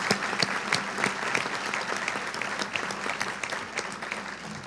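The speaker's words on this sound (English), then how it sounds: "giving all of these past year Hall of Famers a round of applause" Steady applause fills the room at the 2009 Chattahoochee Valley Sports Hall of Fame dinner as past inductees are recognized, a dense, even patter of many hands clapping for nearly five seconds.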